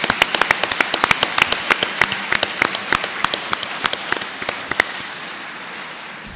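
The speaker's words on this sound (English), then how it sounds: "Let's give the Johnson brothers a huge round of applause to show our support" A crowd at a high school veterans salute assembly claps in sharp, scattered bursts that thin out toward the end, loud and close with no voices over it.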